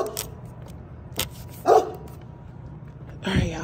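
A dog gives a single sharp bark at moderate distance amid quiet household clatter, followed by a brief vocal sound near the end.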